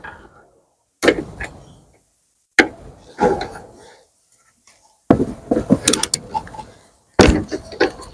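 An adapter is unscrewed by hand from a Cadillac SRX front shock absorber during a suspension replacement. Separate close metallic clicks and clunks come in short bursts with quiet gaps between them.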